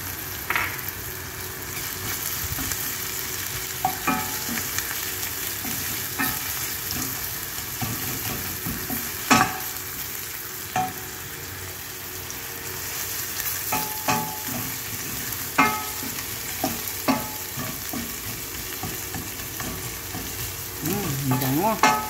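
Garlic frying in a pan for a white fish dish with tamarind sauce, a steady broadband sizzle running throughout with intermittent clinks and scrapes of stirring, close and moderately loud.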